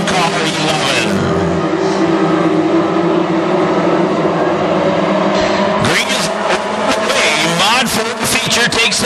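WISSOTA modified race cars at Ogilvie Raceway, a dirt track, roar together as the feature field takes the green, a loud continuous engine drone that swells with a sharp surge near the end, with an announcer talking over it.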